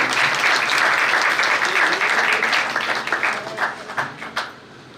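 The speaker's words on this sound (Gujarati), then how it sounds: "ખરેખર એમને એકવાર તાળીઓના ગડગડાટથી વધાવી દઈએ" Applause from an audience at a community gathering during a mass-wedding function, dense sustained clapping that stays loud for several seconds before thinning out into scattered claps and fading.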